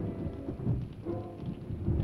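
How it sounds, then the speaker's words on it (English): Steady rain falls during a nighttime storm, with low rumbles of thunder rolling beneath it, moderately loud and continuous with no voices. "I got caught in a storm"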